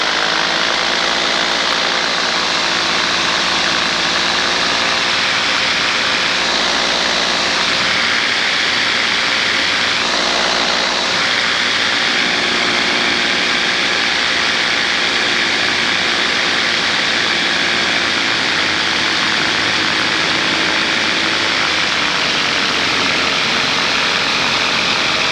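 Steady, loud engine drone from a light aircraft in flight on the crosswind leg of a landing pattern at sunrise, a continuous even hum with no talk over it.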